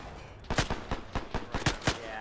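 Rapid gunfire in a video game, about a dozen sharp shots in an irregular burst over two seconds, loud and close against a low background hum.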